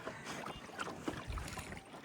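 A boat moves across the Srisailam dam reservoir water, giving a faint, continuous wash of water and wind noise with a brief low thump partway through.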